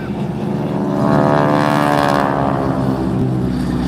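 A propeller aircraft makes a pass at an air show, with a steady loud engine drone that swells slightly in the middle and holds strong throughout, and no voices over it.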